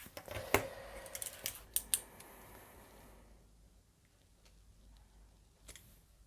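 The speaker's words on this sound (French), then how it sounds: "vous allez devoir faire des fentes avec un cutter" A craft knife cuts short slits in scrapbook paper, giving a few sharp close scratchy clicks and strokes in quick succession, then quieter faint taps in near silence.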